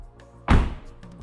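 A single dull, padded thump, like a knuckle knock on a sound-deadened 2009 Honda Accord V6 door, with a short muffled decay and no hollow ring.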